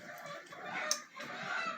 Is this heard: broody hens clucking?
yes